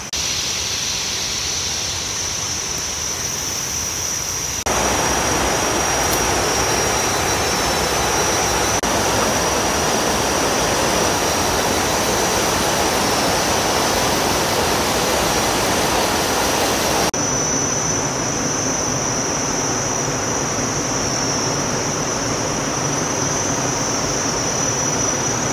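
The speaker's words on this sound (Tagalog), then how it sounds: "Nandito kami sa isang waterfalls." A waterfall in Khao Yai National Park, Thailand, gives a steady, loud broadband roar of falling water that holds for the whole stretch. It swells partway through and eases slightly near the end, with no voices over it.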